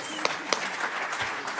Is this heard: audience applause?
yes